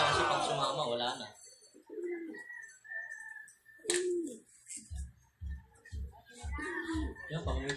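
Racing pigeons at a loft coo in soft, low, repeated bursts, close by, with someone talking over and between the calls.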